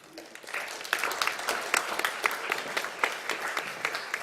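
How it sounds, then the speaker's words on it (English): Audience applause fills an arts festival panel hall after a speaker is introduced, steady dense clapping at moderate distance that swells and holds throughout. "So please give her a thundering applause."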